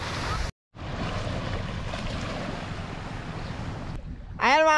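A small outrigger boat (bangka) moves across open water, with a constant engine-and-wind roar and water rush, broken by a short dropout, then a brief voice near the end.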